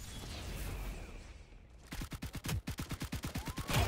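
Video game gunfire in a tactical shooter like Valorant, a brief quieter stretch followed by a rapid burst of evenly spaced automatic shots, loud and close, with game effects around them.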